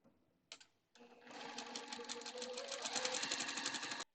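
A sewing machine stitching quilt strips together: a short start, a pause, then a steady close whirring run of rapid needle strokes that builds slightly before stopping.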